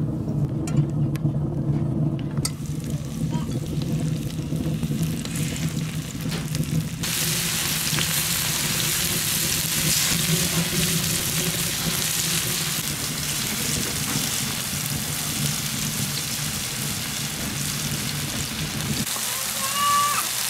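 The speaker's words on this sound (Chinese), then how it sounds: "平底锅里倒点油，下入切好的豆腐" Cut tofu fries in a thin layer of oil in a flat pan, giving a steady, even sizzling hiss that runs unbroken throughout with little change in loudness.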